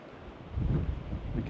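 Gusty wind buffets the microphone with a low, rumbling roar that swells and dips, beside a harbor in Lofoten, Norway, with whitecaps on the water.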